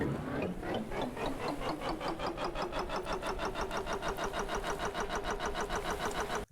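A boat engine pushed to full throttle in the Stormworks sandbox game, its chugging pulses quickening over the first seconds and then settling into a fast, steady, moderately quiet rhythmic drone.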